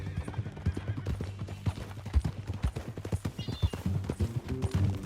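A horse in the Red Dead Redemption 2 video game clip-clops in a steady, close rhythm of hoofbeats, with a whinny breaking through near the end over low background ambience.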